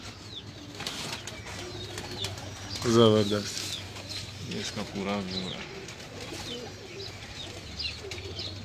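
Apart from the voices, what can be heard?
pigeons cooing on a Lahore rooftop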